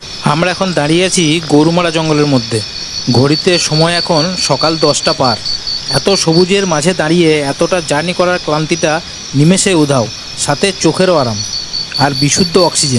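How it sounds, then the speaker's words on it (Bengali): Gorumara forest ambience: a steady high insect drone runs under a person talking throughout at close range, with bird calls hard to pick out. "দু একটা গাড়ি যাওয়ার আওয়াজ ছাড়া শুধু নানা রকম পাখি আর পোকার ডাক"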